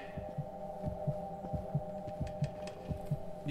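A steady, rhythmic heartbeat thumps in Silent Hill: Downpour, its low double beats repeating about every 0.6 seconds over a constant droning hum, with no voices.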